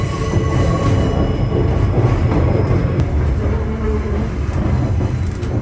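A passenger train in outback Queensland, Australia, rolls along at speed toward the Drummond Range with a loud, steady rumble and rattle of wheels on the rails, and a faint squeal now and then. No voices.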